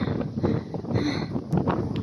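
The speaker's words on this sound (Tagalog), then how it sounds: "Ang sarap ng hangin dito." Wind gusts buffet the microphone on the summit of Devil's Peak in a steady rough roar, with faint rustling underneath.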